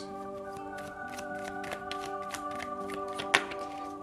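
Tarot cards being shuffled by hand, a steady run of soft riffling taps close by over a faint sustained musical tone.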